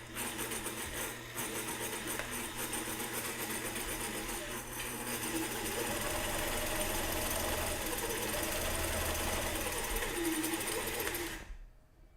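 A sewing machine stitches continuously for about eleven seconds, a steady close mechanical whir and rapid needle clatter that stops abruptly at the end.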